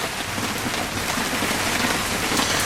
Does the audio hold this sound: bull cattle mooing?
no